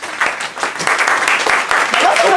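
A small group claps briskly for a couple of seconds, sharp close hand claps mixed with bits of excited voices and laughter.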